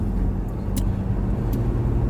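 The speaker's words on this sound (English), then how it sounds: "That truck coming the other way scared them back in." A truck on the Alaska Highway passing in the opposite direction, a loud low rumbling road roar that swells and fades, heard from inside a vehicle.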